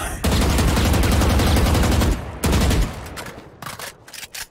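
Rapid automatic gunfire in a video game, a dense continuous burst lasting about two seconds, a short pause, another brief burst, then scattered single shots trailing off.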